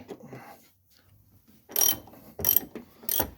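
A ratchet loosens half-inch imperial bolts on the top of a Ford Mondeo suspension turret during spring replacement, with three close bursts of rapid clicking after a quiet start.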